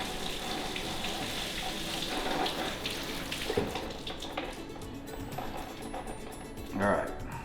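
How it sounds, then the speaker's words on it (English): Running water from a kitchen tap pours over hearts of palm noodles in a colander, a steady close splashing rush that thins out near the end, with a voice talking over part of it. "I'm gonna put it in my colander. And I'm gonna give it a good rinse."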